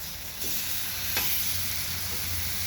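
Food sizzles steadily on a hot griddle with a little oil during a burger, hot dog and potato cookout, a close, continuous frying hiss with a brief scrape as something is flipped.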